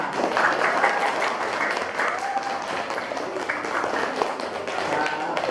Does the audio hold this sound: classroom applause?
yes